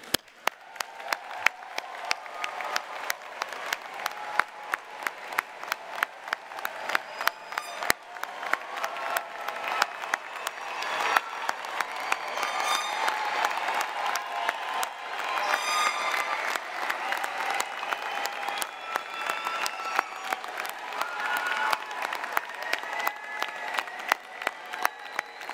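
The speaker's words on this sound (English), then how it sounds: "please stand for a round of applause" Standing applause from a large crowd at a university computer science commencement ceremony, long and steady with crisp individual claps and occasional cheers, heard at a moderate distance in a big venue.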